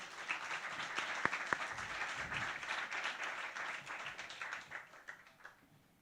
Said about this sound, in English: So everyone, please give a round of applause,